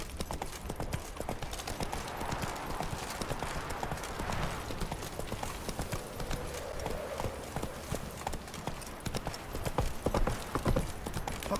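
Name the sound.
horse Roach galloping, video game The Witcher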